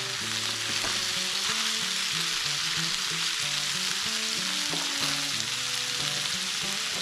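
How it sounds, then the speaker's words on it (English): Vegetables sautéing in a hot pan, a steady loud sizzle and crackle of frying throughout, with faint scraping and stirring noises underneath. "make a little hole, and then saute some of these veggies."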